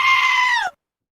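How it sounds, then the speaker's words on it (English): A single loud, close goat bleat, a sustained wavering cry of about two-thirds of a second that cuts off sharply into silence. "Goat."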